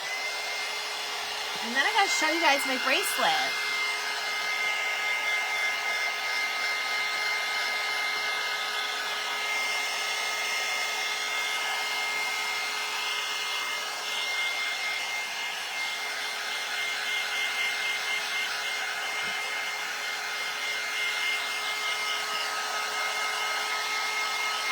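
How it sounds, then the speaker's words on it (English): A hair dryer blows steadily on a craft flower box, a loud continuous whir with a constant whine that runs the whole time while someone talks over it. "we're gonna hit this with the dryer real quick"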